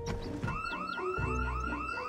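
Car alarm in the video game Project Zomboid, a loud whooping electronic siren that sweeps up and down in quick repeating cycles, blaring alone after a brief rough noise at the start.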